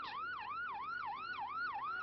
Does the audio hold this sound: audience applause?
no